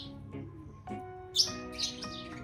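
Parrots on a rooftop kept alongside pigeons give a quick run of close, sharp chirps and short squawks, several calls overlapping in a few seconds with no talk.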